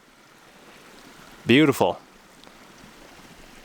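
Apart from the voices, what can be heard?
mountain creek flowing water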